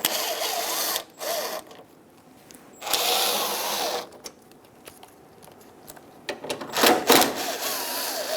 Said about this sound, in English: Using a 7mm socket, we're going to remove the 5 screws for this lower trim piece.